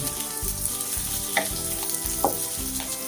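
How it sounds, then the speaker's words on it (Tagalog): Onion and garlic sauté in hot oil in a pan for Bicolano laing, a steady close sizzle and frying crackle with a few sharper pops, no voices. "Antayin lang na pumula ang sibuyas at ang bawang"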